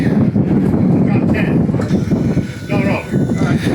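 Strong wind buffets the microphone at an outdoor 1,000-yard F-Class full-bore rifle range, a loud, continuous gusting roar with a voice mixed into it.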